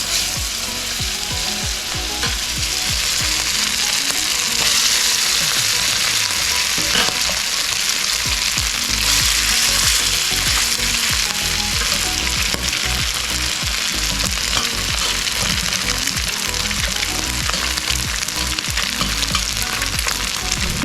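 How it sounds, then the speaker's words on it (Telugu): Masala-coated Godavari fish pieces fry in a hot pan, giving a loud, steady sizzle with dense crackling spatter that carries on without a break and with no voices. "ఈ మసాలా బాగా అంటిందండి, మనం ఫ్రై చేసుకుంటాం"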